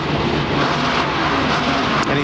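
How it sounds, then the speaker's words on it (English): A NASCAR Nextel Cup race car at Pocono Raceway runs with a failed transmission, its engine droning loud and steady throughout with a brief change near the end. "The engine is running fine, just will not pull."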